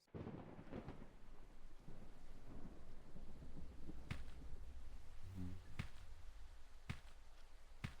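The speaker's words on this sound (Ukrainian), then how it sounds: "Пішов дощ." Steady rain hisses throughout while low rumbling thunder rolls underneath, with a few sharp drip-like clicks standing out; the whole scene is quiet and distant.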